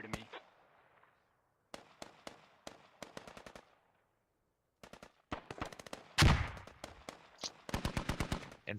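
Artillery shells burst in the tactical shooter Squad as sharp explosive cracks, first in sparse isolated hits and then in dense rapid clusters, with one heavy louder blast in the middle, all heard without talk.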